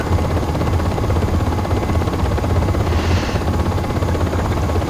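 An in-game UH-60M Black Hawk helicopter in flight in Aerofly FS 4, its steady rotor thump and turbine drone continuous and loud throughout, with a brief brighter whine swelling and fading midway.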